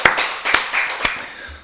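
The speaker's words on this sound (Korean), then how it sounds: "박수로 하나님께 영광 드리겠습니다." A church congregation claps during a Wednesday worship service, sharp close claps sounding in an uneven rhythm of about four distinct strikes over a reverberant background, with no speech.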